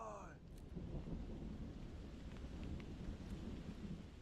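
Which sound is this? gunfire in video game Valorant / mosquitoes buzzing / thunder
thunder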